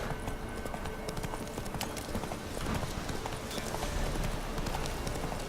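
Roach, a horse in The Witcher 3, running with steady clip-clop hoofbeats throughout, continuous and moderately close over a dense game soundscape.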